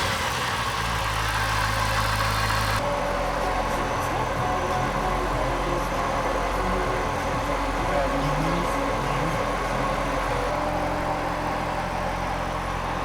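A Chevrolet C6 Corvette engine holds a steady, loud, low idle, with a sharp change near the three-second mark as it catches and settles into an even rumble.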